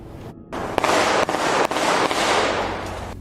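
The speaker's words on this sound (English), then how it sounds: "It's the shots heard around Graduate Hospital." A burst of loud, sharp gunshots in a street shooting rings out close by. Several cracks land over a sustained roar of noise, with no talk.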